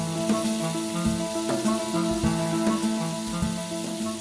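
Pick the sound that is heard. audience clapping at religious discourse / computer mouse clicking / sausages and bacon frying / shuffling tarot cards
sausages and bacon frying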